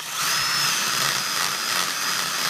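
A power tool sands out a carved hole with a steady, loud, high whirring grind that holds without pause for a couple of seconds, heard alone with no talking.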